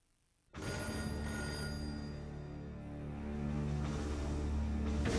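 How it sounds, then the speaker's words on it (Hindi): A telephone rings on a Hindi TV serial soundtrack, a sustained electronic ringing that starts abruptly after a half second of silence and continues steadily, with a low tone underneath. "अच्छा किया प्रमोदनी, तुमने मुझे फोन कर दिया।"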